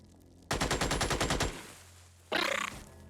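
A heavy machine gun fires in the video game Xenonauts: a rapid burst of about ten loud, evenly spaced shots, then a pause, then a second shorter burst, close and with no voices.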